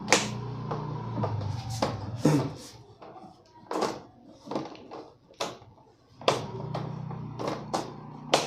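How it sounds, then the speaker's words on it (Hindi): The frame of an LED TV, refitted after a backlight change, is pressed back into place. A series of sharp, close plastic clicks and snaps is heard, spaced irregularly with soft handling knocks between them. "जो ये कट की आवाज़ आती है इसका मतलब हमारा फ्रेम ठीक से बैठ गया है।"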